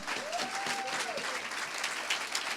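Wedding guests at a celebration clap together in a dense, steady round of applause, moderately loud and continuous, with faint voices and a brief whoop mixed in.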